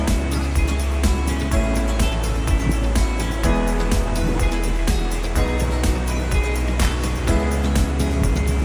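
The 85-metre Montmorency Falls thunders in a dense, steady roar of falling water, loud and unbroken throughout.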